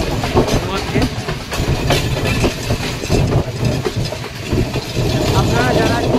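A passenger train runs on rails in Sri Lanka, a dense, rumbling rattle with rhythmic clacking close by, loud and continuous for the whole stretch.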